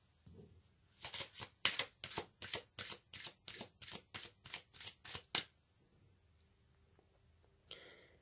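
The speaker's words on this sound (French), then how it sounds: "Je vais tirer une carte supplémentaire pour avoir un message." Tarot cards being shuffled by hand, a close, rhythmic run of about fifteen crisp riffling slaps at an even pace, then quiet and a final soft card sound, no voices.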